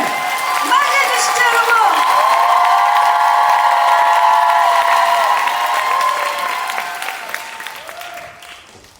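Loud, sustained audience applause and cheering at a musical theatre festival, a dense wall of clapping with whoops and shouts that holds steady for several seconds, then tapers off toward the end.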